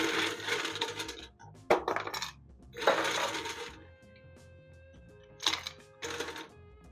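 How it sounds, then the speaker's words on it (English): Ice goes into a cocktail shaker in a few quick bursts of rattling and clinking, each a second or so long, separated by quiet gaps, close and fairly soft. "You're then going to add ice."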